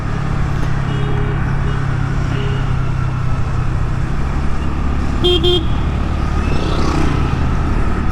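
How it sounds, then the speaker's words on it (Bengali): A Honda Dio scooter horn gives a short double beep midway through, thin and not very loud, over steady road traffic and engine rumble while riding. "স্কুটির হর্নের আওয়াজ প্রচণ্ড লো।"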